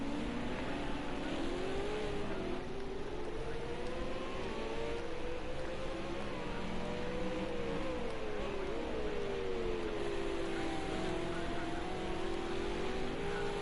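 Supercars race at Ruapuna Park, their engines holding a loud, continuous wavering whine with pitch rising and falling through gear changes and cornering.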